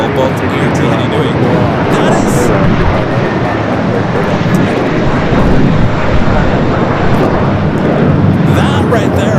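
An Air Tahiti Nui Boeing 787 Dreamliner rolling down runway 24 Left at LAX, a loud broad continuous jet roar that holds steady throughout, with some talk over it.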